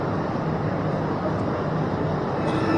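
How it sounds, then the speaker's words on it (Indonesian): Train pulling into a railway station on the Kertanegara line, a steady loud low rumble with broadband rail noise throughout, continuous and close, no clear speech over it. "yang itu datang adalah kereta api apa?"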